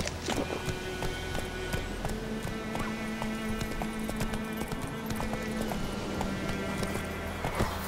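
Horse hooves clop rapidly and steadily in The Witcher 3: Wild Hunt, a running horse heard close over ambient outdoor game sound for the whole stretch.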